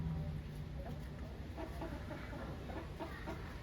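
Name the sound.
chickens clucking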